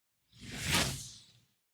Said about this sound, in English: I thought that was going to be a fart one, but it's a whoosh.